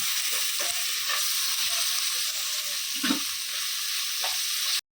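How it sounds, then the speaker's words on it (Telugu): Ginger garlic paste sizzling in a hot pan for a veg pulao, with a spoon occasionally scraping and stirring; steady close frying hiss throughout, no voices, cutting off abruptly at the end. "కొంచెం అల్లం వెల్లుల్లి పేస్ట్ వేసుకుందాం స్పూన్ వేసుకుంటే సరిపోతుంది కొంచెం పచ్చివాసన పోయినంత వరకు వేయించుకోవాలి"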